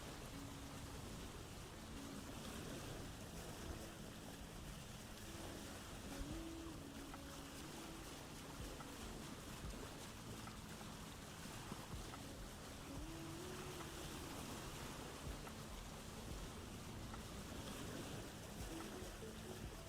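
A boat glides across open water in the Vintage Story survival game, a quiet, continuous watery wash with soft splashes and a faint low rumble running steadily throughout, no voices.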